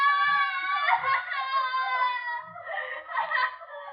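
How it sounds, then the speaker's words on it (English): A woman patient in an asylum screams in long, wavering, high-pitched wails, two drawn-out cries with a brief gap between them, heard up close in a radio drama. "They scream because they remember things."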